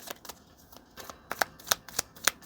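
Oracle cards are shuffled close up: a run of quiet riffling rustles and sharp snapping flicks in an uneven rhythm, with no speech.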